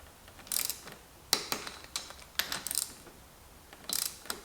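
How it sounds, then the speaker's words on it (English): Clicking ratchet of a torque wrench with a 10 mm socket tightening fork bolts on a KTM 890 Adventure R in a garage, several short bursts of sharp clicks separated by brief pauses, close and clear with no talking. "we're gonna grab our 10 millimeter on our torque wrench. We're gonna torque these down to 15 Newton meters."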